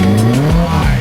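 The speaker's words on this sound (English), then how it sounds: "Saw a very loud, very orange Lotus." A very loud orange Lotus sports car passes close by on Mulholland Highway, its engine note rising and dropping sharply as it sweeps past.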